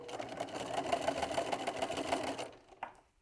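A sewing machine runs steadily, stitching a quilt block onto a 2.5-inch jelly roll strip with a busy, continuous whir for about two and a half seconds before stopping, followed by a faint click.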